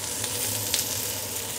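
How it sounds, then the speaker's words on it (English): Asparagus sizzles steadily in hot oil in a wok, a close, continuous crackle with small pops. "That nice sizzle, what's happening is the oil is cooking the outside of the asparagus."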